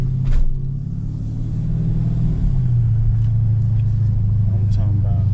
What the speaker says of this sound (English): we're gonna take it around the corner right here and give it full throttle, and I'm gonna show you guys how bad it's losing traction